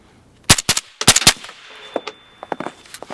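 Rifle shots through a YHM suppressor at an outdoor range, a rapid string of sharp, loud cracks in two quick bursts, followed by a few fainter distant shots.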